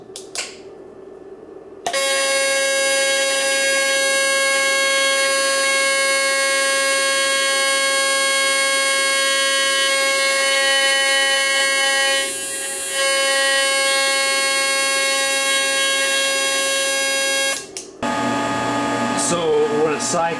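An Everlast Typhoon 330 TIG welder running a 300 hertz AC arc gives a loud, steady, harshly pitched buzz that holds for about fifteen seconds with one brief dip. Quieter sounds come before the arc, and a short different burst follows it.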